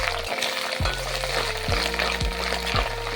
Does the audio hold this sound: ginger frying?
yes